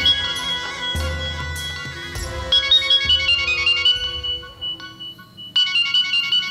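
A mobile phone ringtone ringing late at night, a loud melodic electronic tune of repeating bright chimes with steady rhythmic notes, clear and close with no talk over it.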